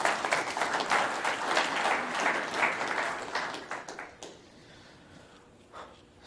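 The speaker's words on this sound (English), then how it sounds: "I don't know how to follow up applause" Conference audience applauds after a presentation, a full burst of clapping for about four seconds that then fades, leaving near silence with a faint stray sound afterward.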